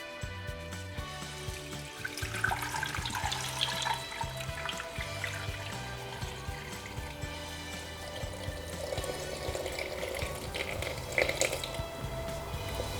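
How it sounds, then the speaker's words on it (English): A litre of water pouring into a Thermomix bowl while cooking white rice, a steady splashing trickle that runs throughout, close and moderately loud, over a faint low hum. "And we want to add a litre of water."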